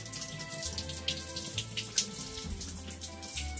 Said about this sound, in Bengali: দেখো জল পড়ছে।